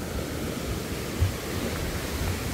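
Jungwon waterfall in a mountain valley pours as a faint, steady broadband rush of falling water that never changes and carries no other sounds.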